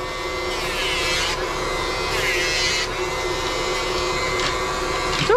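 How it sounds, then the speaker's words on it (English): A Dremel rotary tool grinding a dog's nails during mobile grooming gives a loud, steady high-pitched whine with slight pitch shifts as it touches each nail, close up, with a voice talking underneath. "then we'll use the Dremel"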